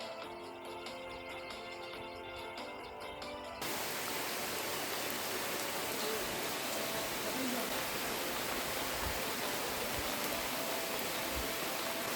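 After a few seconds of music, a dense, steady hiss of heavy monsoon-style rain on a trek near Pipaldoh fort takes over and continues evenly, loud and close.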